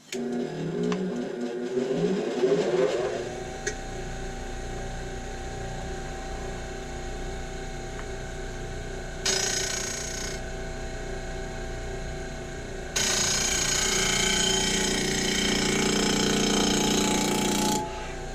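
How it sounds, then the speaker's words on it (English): Power sander smoothing the sides of small wooden pieces: a steady motor drone with two rougher, louder bursts of gritty abrasion when the sander meets the wood, close and continuous. "I'm going to sand these just enough to clean the sides up."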